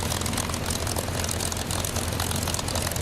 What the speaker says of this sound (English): That engine sounds like it's about to die